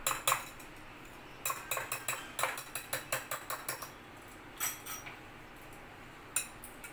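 A spoon clinks and scrapes against a serving bowl as cheesy dip is scooped in, with a string of sharp metallic taps in quick bursts, then a few isolated clinks.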